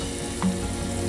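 Butter sizzling as it melts in a hot kadai while cooking butter chicken, a short steady frying hiss with one brief louder pop near the middle.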